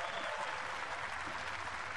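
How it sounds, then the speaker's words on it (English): Spectators at a men's 1000 final competition applaud a Belgian athlete, a steady wash of clapping from a large crowd, distant and fairly faint, sustained throughout without voices standing out. "The Belgian getting warm applause."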